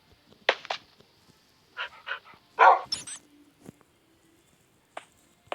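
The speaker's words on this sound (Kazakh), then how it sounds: "Міне тұр ғой менің итім." A dog barks in a few short, sharp bursts separated by pauses, with softer whimpering yelps in between. It sounds close, with no talking.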